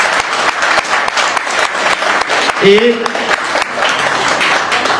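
Audience applause for a singer at an album presentation in Paris, a sustained burst of clapping heard under a voice speaking over it.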